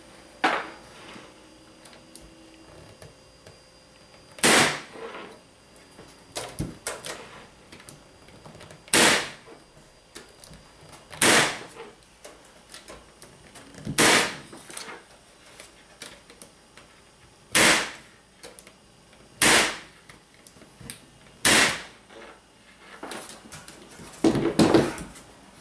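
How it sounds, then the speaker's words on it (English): A staple gun drives staples through screen mesh into a wooden beehive bottom board, firing about ten sharp, loud, separate snaps a couple of seconds apart with quieter handling noise between them. "You can do the same thing, I staple it in."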